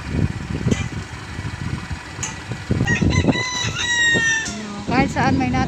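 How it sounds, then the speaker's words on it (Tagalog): A rooster crows near Sampaloc Lake in San Pablo, Laguna, its drawn-out call rising over a steady background hum, followed by shorter clucking calls. "Kahit saan may natilaok ng manok."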